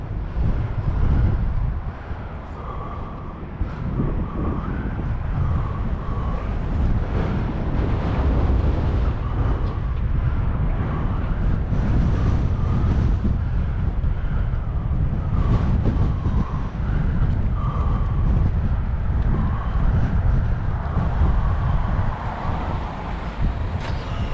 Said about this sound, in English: those temperatures are creating atmospheric disturbances in the form of wind